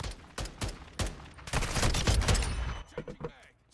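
Gunfire in the video game PUBG, a run of loud, rapid bursts and shots that build into a dense stretch of fire before thinning into a few scattered reports, with voices talking over part of it.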